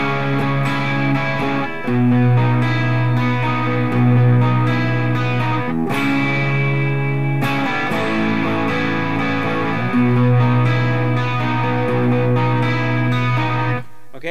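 Electric guitar strums the chords of a song with a chorus effect switched on, playing steady, loud, sustained chords with regular chord changes for about fourteen seconds and no talking.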